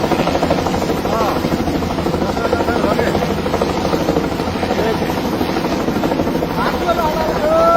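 Helicopter flying over a flash-flood disaster area in Rasuwa, Nepal, its loud rapid rotor chop throbbing steadily throughout with faint voices beneath.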